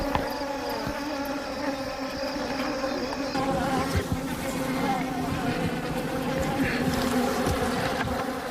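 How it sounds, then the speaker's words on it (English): A dense, steady swarm of bees under attack by a honey badger, loud continuous buzzing with overlapping wingbeat drones and occasional sharper whines, close by and unbroken throughout. "Some of the bees are still fighting back,"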